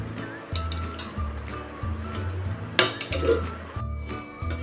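A lid set onto a pot of grated raw mango and sugar, with several clinks and knocks of metal cookware close by and a brief louder clatter midway, no talking.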